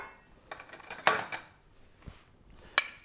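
A small pot handled on a kitchen surface for browning 25 to 50 grams of butter, giving a few light metallic clinks and knocks, then a sharp clatter near the end, close and alone.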